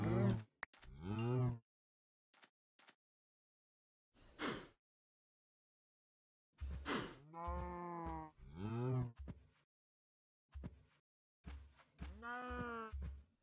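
Minecraft cows give several low, drawn-out moos, some overlapping and separated by short pauses, with small blocky game clicks and footsteps in between.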